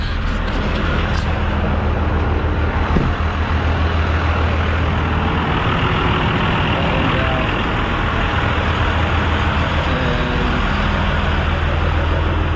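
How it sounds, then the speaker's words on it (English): A truck's engine idles at a Love's fuel station, a loud, steady low rumble that runs unbroken throughout with faint roadway noise mixed in. "I know it's loud out there because the truck's running"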